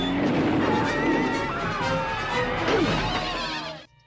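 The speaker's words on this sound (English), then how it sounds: "horse sold separately." A horse neighs loudly in a toy commercial, a long whinny with a crash and clatter mixed in, cutting off abruptly near the end.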